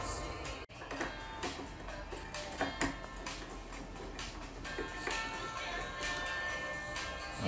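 A ratchet or wrench clicks in a fast, steady run while a 10mm hex bolt is undone on the front brake caliper of a 2004 VW Passat B5, close by and fairly quiet.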